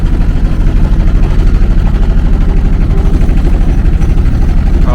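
A boat engine chugs loud and close with a steady, rapid low throb throughout, unbroken and dominating, on a river trip in Netrakona, Mymensingh.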